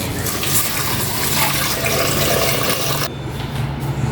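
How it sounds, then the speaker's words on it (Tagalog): Water poured from a tap or container into a cooking pot while preparing sinigang na pampano, a steady close splashing rush that ends abruptly near the three-second mark, leaving a quieter trickle. "Kukuha na ko ng tubig."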